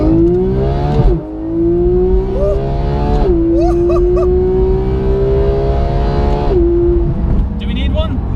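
A Porsche GT3 accelerates hard along a straight road, its engine note climbing steadily through the gears with brief dips at each shift, loud and close throughout, with voices breaking in over it.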